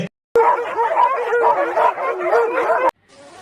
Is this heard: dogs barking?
yes